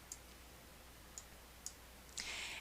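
Mouse clicks from someone working on a computer cover design, three faint single clicks spread apart, then a brief louder burst near the end, all quiet over low background hum.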